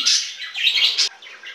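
Pet budgies kept indoors in a living room chirp and warble in quick, bright bursts, close and loud, with a short pause before softer chatter resumes.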